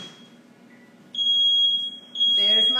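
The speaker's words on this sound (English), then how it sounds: "There's my smoke alarm." A kitchen smoke alarm sounds a loud, piercing high-pitched tone that starts after a quiet moment, cuts briefly, then resumes, while someone begins talking underneath as it continues.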